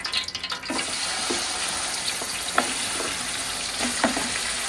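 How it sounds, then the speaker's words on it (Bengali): Chicken feet drop into hot soybean oil in a pot and fry with a loud, steady sizzle, broken by a few sharper crackles and spatters, close up, with no talking. "তারপর তেলটা গরম হয়ে গেলে আমি চিকেনের পাগুলো দিয়ে দিচ্ছি"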